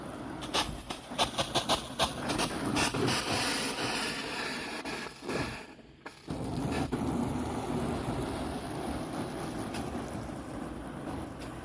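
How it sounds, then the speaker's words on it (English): Garden hose spraying water across fiberglass skylight panels on a roof, a steady close hiss and wash of water with a few sharp bursts near the start and a brief dip midway. "Just rinsing them off with a hose here."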